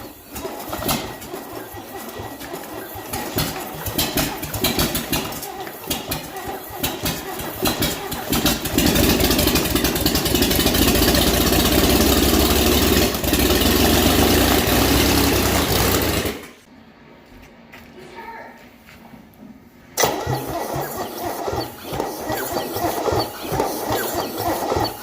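A Chevrolet 250 engine runs loud and close, its rough idle picking up into a sustained rev, then dropping sharply quieter for a few seconds before returning to a choppy, uneven idle.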